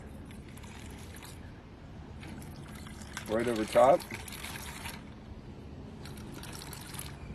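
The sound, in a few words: orange juice poured from high into a drink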